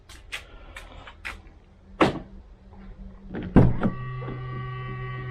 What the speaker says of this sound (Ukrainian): Дверь відчинилась, зеркала розклалися